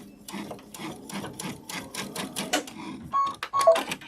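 A sewing machine runs a short locking stitch on a sunflower wall hanging, a close, rapid mechanical chatter of needle strokes that speeds and slows over a few seconds.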